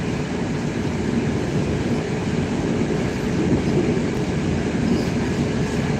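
A Russian metro train runs steadily through the underground, a loud, continuous rolling roar with faint wheel clatter that holds at a constant level throughout, with no voices.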